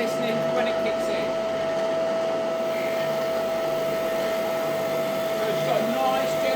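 Lumberjack drum sander motor running with a steady whining hum and a strong constant tone, a loud continuous machine drone close by with a person talking over it.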